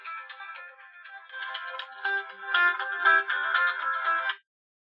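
A phone ringtone plays a bright repeating melody that grows louder partway through, then cuts off abruptly, with no talk over it.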